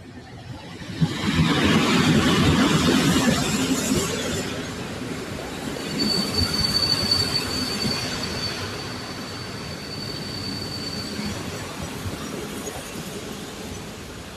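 A three-car TLK passenger train hauled by an EP07 locomotive departs a station in Poland, rumbling with a rolling clatter, and a thin, high metallic squeal rises briefly from the wheels midway through.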